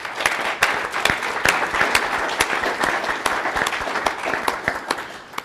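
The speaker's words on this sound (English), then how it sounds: "A round of applause for candidates." Audience applause at a school governing board candidates forum, steady crisp clapping from a seated crowd for several seconds, near and moderately loud.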